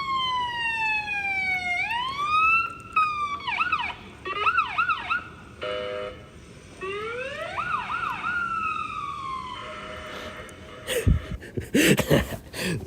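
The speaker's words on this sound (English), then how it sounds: "Had a medic one ambulance right in front of him." Medic ambulance siren sweeping through wail and rapid yelp tones close by, switching patterns several times before breaking into clattering noise at the end.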